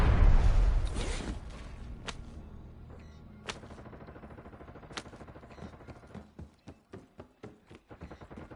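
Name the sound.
gunfire in a video game battle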